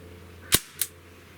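Two sharp shots from a SIG Sauer MPX or MCX fired over a chronograph, close and loud with a short gap between them, each followed by a fast decay.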